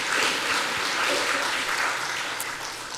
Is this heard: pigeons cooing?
no